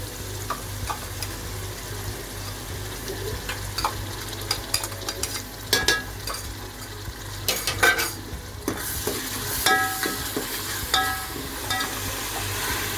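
Ginger, garlic and chilli paste sizzles in hot oil with browned onions in a pan, with a steady frying hiss and scattered scraping stir strokes, no voices.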